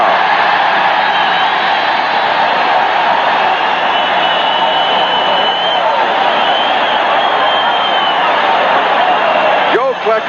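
A football stadium crowd at the 1981 AFC Wild Card game between the Buffalo Bills and New York Jets roars loudly and continuously after a sack, a dense sustained wall of cheering.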